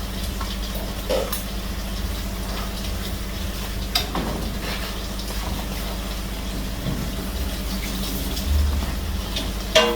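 Roti flatbread cooks in oil and butter with a continuous soft sizzle and hiss, broken by a few light scrapes and taps; no talking.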